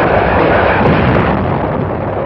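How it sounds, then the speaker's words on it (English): Point-blank naval gunfire from the 262-ship United Nations armada during the preliminary bombardment at Inchon makes a loud, continuous roar of blasts and rumbling explosions. "Guns of the 262-ship United Nations Armada began their point-blank preliminary bombardment"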